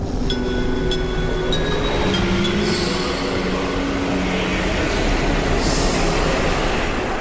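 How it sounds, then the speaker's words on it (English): Train sounds from a video game, treated with echo and reverb: a steady, loud rail rumble with squealing wheel tones and metallic pings, continuous throughout. "After which we pair it with various train-related sounds."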